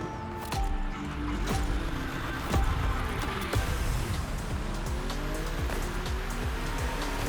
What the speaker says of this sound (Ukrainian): Ми прям газуємо зараз на мерсі.